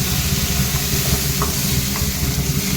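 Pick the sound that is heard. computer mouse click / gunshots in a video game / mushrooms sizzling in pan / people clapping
mushrooms sizzling in pan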